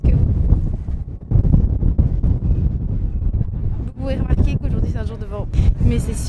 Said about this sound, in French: je pense que vous pouvez remarquer qu'aujourd'hui c'est un jour de vent